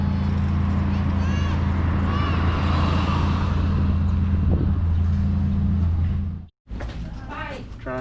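Busy street noise on a main road in La Union, Philippines, with a steady low engine rumble from passing vehicles, a brief cut near the end, then traffic resumes with faint voices.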